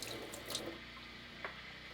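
Water-glassed eggs rinsed under a running kitchen tap, a steady faint stream splashing in a sink with a couple of brief louder splashes, no talking.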